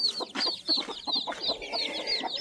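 Hens and small chicks on a farm, with rapid high chick peeps in a quick, repeating pattern over lower clucking, close and fairly loud.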